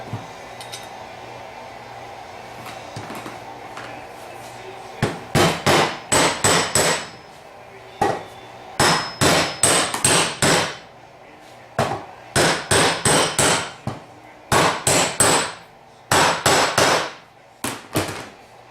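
An output shaft seal being hammered into a TH350 automatic transmission, sharp metallic blows in quick bursts of three to six strikes separated by short pauses, close and loud against a quiet shop background.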